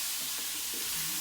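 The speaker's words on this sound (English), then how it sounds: "That's lovely, got a nice sizzle going." Lamb sizzles steadily in a hot pan while browning for a curry, a dense, close hiss of frying with no voices.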